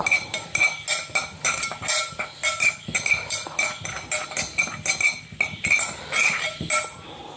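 A metal utensil clinks and scrapes steadily against a dish while food is mixed with salt. The strokes are rapid, rhythmic and close, with no talking.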